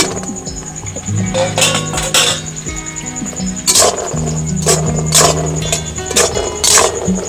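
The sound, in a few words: fried dal mithai being stirred in sugar syrup in a pan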